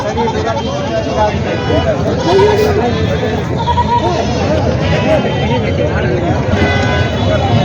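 Goats bleating at the Basmat goat market, repeated calls over a busy crowd of voices and market hubbub, with people talking nearby.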